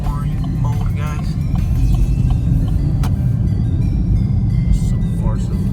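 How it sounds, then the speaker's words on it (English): A 2017 Chevrolet Camaro SS cruises in touring mode, its engine a deep, steady rumble heard from inside the cabin while a person talks over it. "So far, so good. Car's running great."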